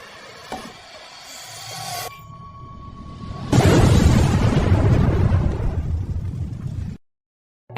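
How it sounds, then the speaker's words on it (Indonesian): A box of dynamite detonates in a vampire horror film, a loud deep blast that swells and rolls for several seconds after quieter rumbling, then cuts to silence. "membiarkan semua vampire menyerbunya. Bukannya tanpa alasan, pria itu telah menyiapkan sekotak dinamit untuk menciptakan ledakan"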